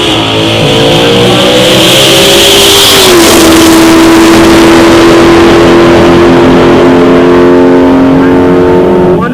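A 1978 Ford Fairmont drag car with a 325 small-block Chevy engine roars at a drag strip, very loud and close. Its engine note sweeps, then settles into a sustained high-revving drone alongside another racing car.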